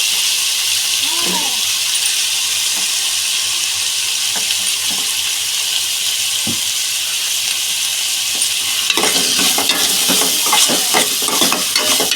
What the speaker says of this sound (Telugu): వంకాయ ముక్కలు వేసేసుకుందాం